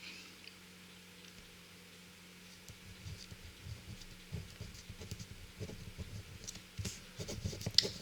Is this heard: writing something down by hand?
yes